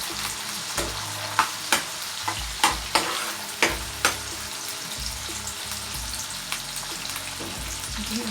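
Onion sautés in a pan with a steady sizzle while it is stirred, giving several sharp scraping clinks early on that thin out as the frying goes on, with no talking.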